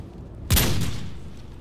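A single sharp pistol shot from a Call of Duty 4: Modern Warfare multiplayer match bursts loudly after a brief quiet lead-in, then trails off in a long reverberant decay, with no voices.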